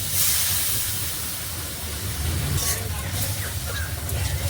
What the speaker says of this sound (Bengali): মশলাটা একটুখানি ভেজে নেব জলটা দিয়ে